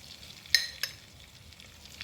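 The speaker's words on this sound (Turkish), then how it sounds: "2-3 yemek kaşığı kadar tereyağı koydum." Butter melting and sizzling in a pan for soup, a low steady crackle close by with a couple of brief sharp clinks from utensils, quiet and without speech.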